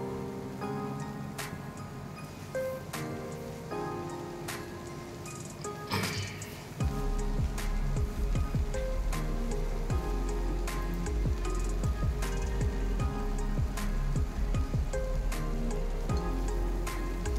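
Chopped note shak greens hit a pan of fried onions and garlic, giving a dense, steady sizzle and crackle that grows louder midway and keeps up with close, continuous spitting and popping.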